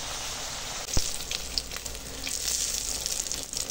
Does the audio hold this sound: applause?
no